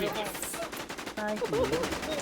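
Rapid automatic gunfire in the Infestation video game, with machine-gun bursts and overlapping shots crackling close and loud, while a voice speaks over the firing.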